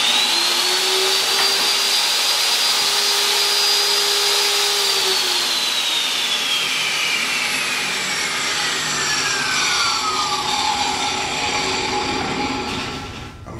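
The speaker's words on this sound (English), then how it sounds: "All I got to do is turn the saw on and go ahead and rip my cut." Table saw ripping a board set at 16 1/8 inches for garage cabinet doors: a loud steady motor whine that rises, holds, then drops in pitch as the blade bites into the wood, continuous for over ten seconds with no talk.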